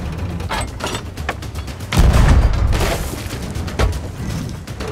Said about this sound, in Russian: Давайте вот это вот попробуем замочить из пушки.